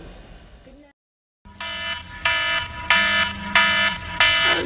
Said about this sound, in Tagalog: yung alarm mo.